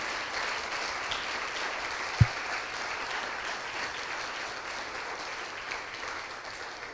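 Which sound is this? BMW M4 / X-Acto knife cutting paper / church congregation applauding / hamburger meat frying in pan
church congregation applauding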